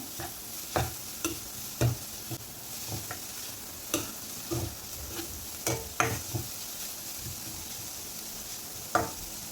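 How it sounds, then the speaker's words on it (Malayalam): Chopped curry leaves and other ingredients sautéing in a pan, with repeated sharp scrapes and clacks of stirring over a soft, steady sizzle, close and fairly quiet with no talk. "എല്ലാം കൂടി ഇട്ട് കൊടുത്തൊന്ന് വഴറ്റി കൊടുക്കാം"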